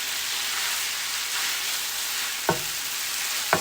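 Chopped scrambled eggs sizzle steadily in a hot pan of fried rice, a constant loud frying hiss broken by two sharp clinks of a utensil near the end.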